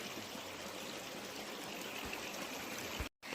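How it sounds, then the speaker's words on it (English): A creek at a campground rushes and trickles in a steady, fairly quiet wash of water that runs without pause before cutting off abruptly near the end. "And this creek is nice."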